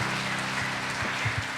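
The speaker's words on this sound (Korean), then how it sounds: "박수하겠습니다" A short burst of applause in a hall, with a few louder, nearer claps standing out in the last half second.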